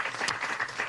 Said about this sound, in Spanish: yo pido para Luis Alberto Crespo un fuerte aplauso